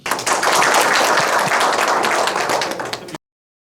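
An audience at a Seoul social solidarity forum debate claps to welcome a professor to the podium: loud, dense, sustained applause that cuts off abruptly near the end.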